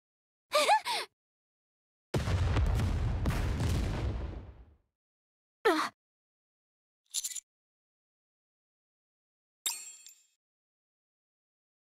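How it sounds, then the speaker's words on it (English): A booby trap goes off in the video game NIKKE: a loud burst of explosive rumble lasting a couple of seconds, bracketed by short sharp metallic clangs and pings in otherwise silent surroundings. "I managed to dodge the explosion."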